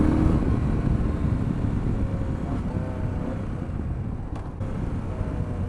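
Triumph Street Scrambler motorcycle ridden on the road, a steady broadband engine and wind roar held close and constant throughout, with no talking.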